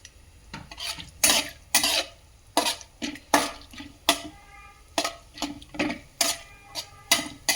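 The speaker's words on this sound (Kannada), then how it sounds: "ಕಡಲೆಬೇಳೆ ಹಾಕ್ಕೊಂಡು ಸ್ಪೂನಿನ ಸಹಾಯದಿಂದ ಇದನ್ನು ತಿರುಗಿಸ್ತಾ ಇರಬೇಕು." A spoon stirs chana dal in a pan while rice rava upittu is being cooked, with sharp scraping knocks in a steady rhythm about twice a second, close up and with no talk.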